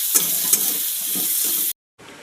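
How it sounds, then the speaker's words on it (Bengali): Onion, green chili and bay leaf fry in a wok, a loud, dense sizzle with a few sharp stirring clinks. It cuts out to silence briefly and then resumes. "এবার তেজপাতা দিয়ে পেঁয়াজটা দিলাম, পেঁয়াজ লঙ্কা ঢেলে দিলাম"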